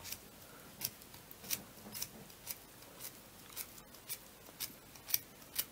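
Small scissors snip through yarn wound between two cardboard discs for a craft pompom, giving crisp, fairly regular cutting clicks about twice a second, close and alone in a quiet room.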